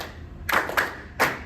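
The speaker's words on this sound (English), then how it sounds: "let's clap the bass line with no tie first." A group in a lecture on Latin American piano music claps out a bass-line rhythm: three crisp, fairly close hand claps in an uneven pattern, two quickly paired and then one after a short pause, with no talking.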